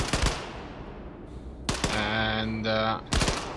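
Gunfire in the video game Wolfenstein II: The New Colossus, with sharp single shots and a sustained automatic burst in the middle, loud and close, alongside game sound effects.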